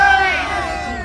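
A crowd at a coalition rally for excluded workers cheers and whoops in a brief loud burst, voices rising together and fading slightly.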